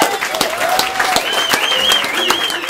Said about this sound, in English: can we have one big round of applause for